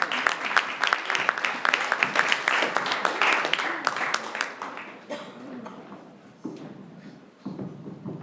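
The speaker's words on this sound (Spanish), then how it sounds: "vamos a dar un fuerte aplauso a la vida de Ricardo" Congregation at a church service giving a strong round of applause for a preacher, loud crisp clapping that thins out halfway, with scattered claps and murmuring voices trailing off.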